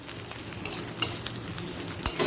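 Black cumin and spices frying in oil in a pan over a lowered gas flame, a soft steady sizzle with occasional stirring clinks and scrapes, close and fairly quiet.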